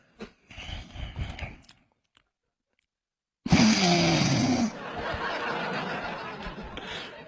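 A voice imitates a person snoring: a short rasping burst, a pause, then a long, loud snore-like sound trailing into laughter-like noise, all up close.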